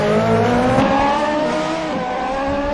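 Racing car engine in a video game screams at full throttle on the Dover Raceway circuit, a steady high-revving harmonic drone that shifts pitch once partway through, loud and close with no talk over it.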